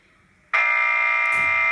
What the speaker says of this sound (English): I've been using this buzzer at the same time